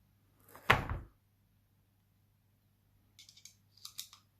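Magazine pulled from a Kimar 92 9mm blank pistol with its slide locked back: one sharp metallic click-clunk, then a pause and a few lighter clicks and scrapes near the end, close and quiet.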